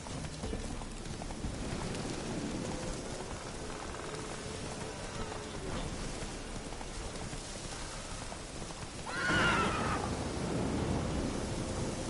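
Hooves clatter steadily as a horse is ridden in The Witcher: Wild Hunt, with rain-like noise throughout and a short neigh rising near the end.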